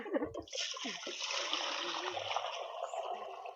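Running water splashes steadily as coriander leaves are washed by hand in a kitchen, a close continuous rush after a brief moment of speech at the start.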